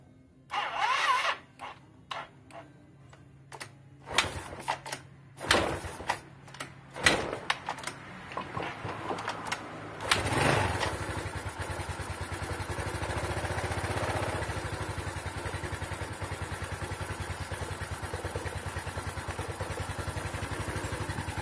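A Yamaha Mio scooter engine, just after a valve adjustment, first sputters in irregular bursts through several start attempts, then catches and settles into a steady, close, even idle.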